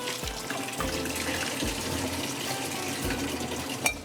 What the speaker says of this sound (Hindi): ये अंडे तो हमने पानी इसका फेंकते हैं।